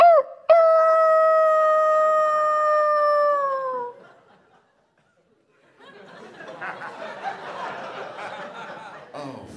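A comedian imitates a werewolf on stage with a long, loud, wavering vocal howl that fades out, followed after a pause by a crowd's scattered laughter.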